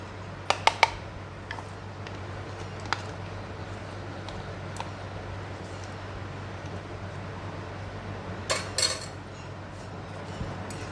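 A metal spoon mixes rock salt and chaat masala in a small bowl for a lauki and fruit raita, giving a few faint, light clinks near the start and again near the end over a quiet room hum.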